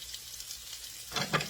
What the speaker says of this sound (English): I'm going to throw my shallots in here